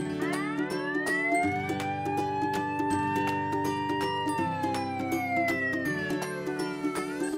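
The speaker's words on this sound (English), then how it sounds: "Fire engine." A fire engine siren wails in long rising and falling sweeps, steady and fairly loud, over a buzzing pulsed horn-like drone that repeats in blocks, with no talking.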